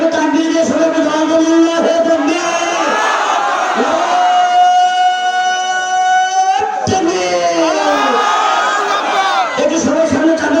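A large crowd at a madrasa religious gathering chants takbir, loud massed voices rising together in repeated sustained calls, with a leader's voice leading in between.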